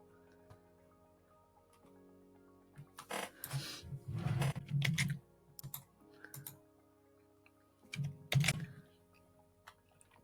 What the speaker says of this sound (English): we're going to just take this and we're going to type it into the word counter as well